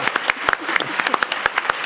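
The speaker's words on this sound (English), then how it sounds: "How about a round of applause for all of us still existing?" A literary seminar audience gives scattered, fairly close hand claps for a couple of seconds, with no talking over them.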